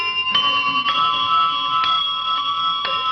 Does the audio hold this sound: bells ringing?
yes